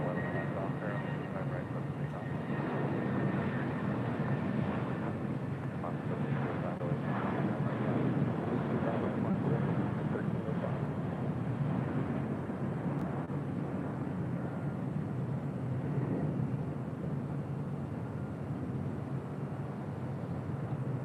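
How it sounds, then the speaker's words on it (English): A JetBlue Airbus A320 departs LAX for Puerto Vallarta, producing a steady, broad jet roar that holds constant throughout with some wind noise over the microphone. "Next departure is JetBlue Airways Flight 1063 heading to Puerto Vallarta"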